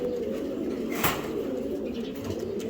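Racer pigeons, including a shadle black pied pair, coo softly and steadily nearby, with a low repeating coo and a brief rustle partway through.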